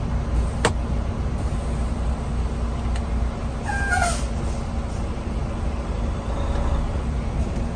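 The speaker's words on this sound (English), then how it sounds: "I'm gonna check my parking brake." Automatic Class A truck in drive, pulling against its parking brake, gives a steady, close engine drone with a sharp tick early on and a brief squealing chirp midway.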